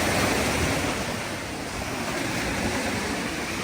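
Waves washing onto a rubble-strewn Lake Ontario beach during low water: a continuous, full rush of surf mixed with wind buffeting the microphone, with no voices.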